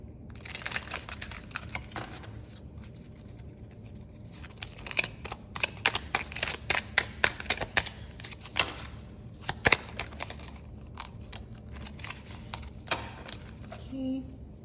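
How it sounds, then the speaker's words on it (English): Tarot cards shuffled by hand during a card reading, a run of crisp riffling flicks and soft card slaps in quick irregular bursts, close and fairly quiet with pauses between. "Just gonna shuffle."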